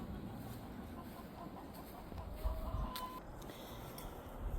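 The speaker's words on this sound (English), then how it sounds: "Time to feed the animals and let the chickens out." Chickens cluck softly on a spring morning, faint and somewhat distant over low outdoor background noise, with a few short calls standing out near the end.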